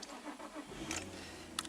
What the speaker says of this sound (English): So we've got the car running